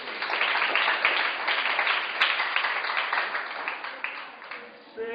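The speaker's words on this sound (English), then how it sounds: "Clap for yourselves today." Students clapping for themselves at a drama lecture, a fairly close, dense burst of group applause that keeps going for several seconds and eases slightly near the end, with some voices mixed in.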